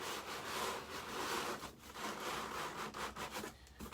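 A cardboard tube slides snugly into a cardboard box with a continuous close scraping rub lasting several seconds, broken by short pauses, with no talking.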